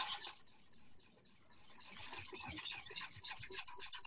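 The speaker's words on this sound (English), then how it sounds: "you're just gonna whisk it together good and make sure our dry ingredients are nice and combined" Dry baking ingredients, including baking soda, whisked together in a bowl for a cake: a continuous close scraping and swishing of the whisk against the bowl, growing busier and more rhythmic toward the end.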